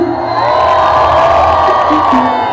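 A large crowd at a hip hop concert on a rural show night cheers and shouts continuously at a loud, steady level, with whoops and hollers rising throughout and no clear speech.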